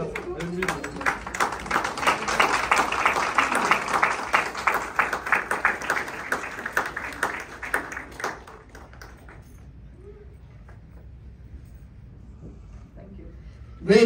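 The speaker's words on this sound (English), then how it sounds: "Thank you very much for applauding me." Audience applause at a community book event: a room full of people claps steadily for about eight seconds, then the clapping dies away into a quiet hall with a few faint sounds.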